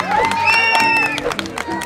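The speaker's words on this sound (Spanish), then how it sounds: "la vamos a aplaudir" Children and guests applauding and cheering at a first birthday party, clapping and crowd noise mixed with a bright electronic musical tone and voices talking.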